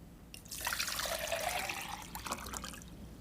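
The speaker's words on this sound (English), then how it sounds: "Let's put the pellets into this beaker, and we'll add the water." Water pours into a beaker of pellets, about a liter added in one steady, close splashing stream that swells and then tapers off into trickling, with no voices.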